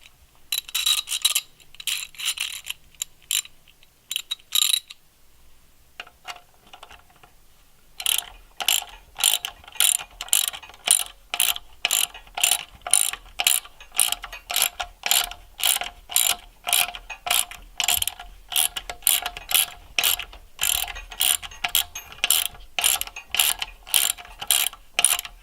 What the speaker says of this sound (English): We'll go ahead and tighten this one up with the